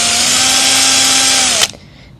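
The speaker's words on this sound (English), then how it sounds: "We need to drill 2 holes into this" A power drill bores holes into a metal pipe during a homemade electric bicycle conversion, a loud, steady high whine lasting about a second and a half before cutting off abruptly into quiet.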